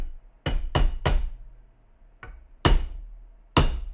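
A hammer strikes metal to break a weld in a shop, six sharp, loud, isolated blows spaced irregularly with short ringing decay between them.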